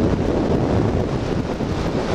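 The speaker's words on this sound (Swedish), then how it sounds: "Det blåser så hårt." Strong wind buffets the microphone outdoors on a snowy winter moped ride, a steady loud broadband roar that fills the clip without letting up.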